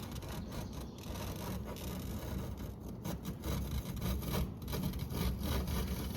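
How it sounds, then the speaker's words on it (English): Razor blade scraping grime off oven stove glass, a continuous gritty rasping scrape with slight rhythmic strokes, close and fairly quiet, with no talking. "It's just a razor blade. Get all the grime off of there."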